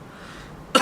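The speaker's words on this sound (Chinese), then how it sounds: "你这咳嗽还没好呀？" A single short, loud cough from a man with a lingering cough, bursting out at the very end of a quiet indoor moment.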